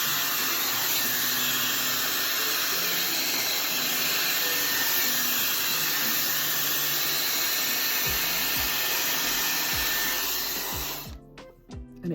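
A handheld hair dryer blows steadily and loudly while hair is dried section by section, a constant broadband whoosh that cuts off near the end, leaving brief handling noises.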